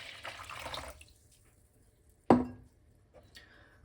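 Warm water is poured into a coated bowl with rounded inner corners for rye sourdough bread dough, a short splashing pour followed by a sharp clink and faint drips in a quiet kitchen.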